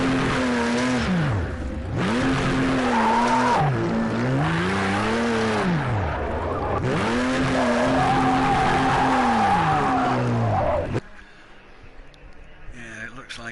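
Video game racing cars doing donuts and crashing, with engine drones rising and falling in repeated swooping arcs alongside continuous tire skidding, loud and close, before cutting abruptly to quieter scattered sounds near the end.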